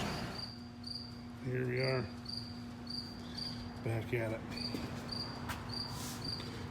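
A cricket chirps in steady, evenly spaced pulses throughout, close by during outdoor work on an air conditioning unit, while someone speaks briefly over it.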